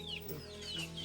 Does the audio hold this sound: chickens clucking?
yes